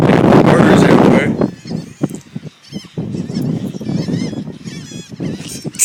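A large flock of birds gives loud, close, goose-like honking calls throughout, overlapping with excited shouting voices.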